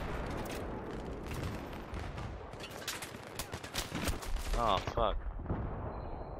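Battlefield 3 combat with continuous gunfire and a booming grenade blast, loud and close, followed by a crackling rumble and a short shouted exclamation.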